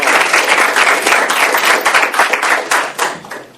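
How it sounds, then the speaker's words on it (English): A round of applause for a large graduating senior class at a school board meeting, loud dense clapping from the crowd throughout, easing slightly toward the end. "give them another round of applause"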